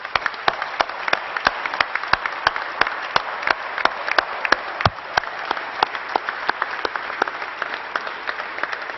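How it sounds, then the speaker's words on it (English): Sustained audience applause at a press conference announcing the sale of the Milwaukee Bucks, a dense even wash of clapping with crisp individual claps throughout, steady and fairly close, with no speech over it. "let's give Senator Cole a round of applause"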